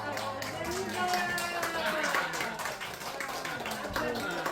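A crowd of elderly people claps continuously, a dense patter of hands close by, while a voice speaks over the applause.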